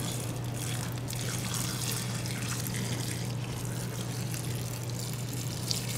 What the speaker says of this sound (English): you're not putting too much water on one side